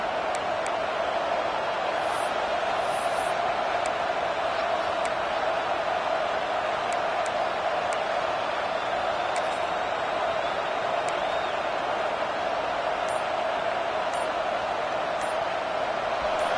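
A college football bowl game stadium crowd roars continuously and loudly through a third-and-goal play, a dense unbroken wall of noise with scattered high whistles and shouts.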